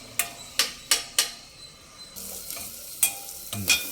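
Onions frying in oil in a home kitchen, with several sharp scraping stirs of a spatula against the pan over a steady, close sizzle and no talking.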